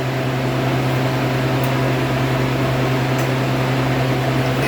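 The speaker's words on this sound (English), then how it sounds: "now it says to turn the vacuum on" A freeze dryer running with its vacuum pump switched on gives a loud, steady mechanical hum and whir with a strong low drone, unbroken and alone for several seconds.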